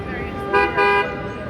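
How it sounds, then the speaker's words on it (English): Two short, loud car horn honks sound close by on a busy New York street, one right after the other, over a bed of traffic noise. "Oh, and the honking, that's pretty regular."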